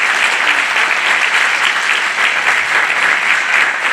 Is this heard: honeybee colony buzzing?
no